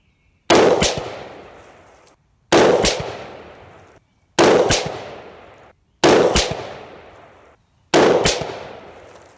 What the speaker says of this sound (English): So let's start out with 5 shots